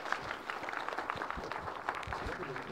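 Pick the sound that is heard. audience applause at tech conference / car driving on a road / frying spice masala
audience applause at tech conference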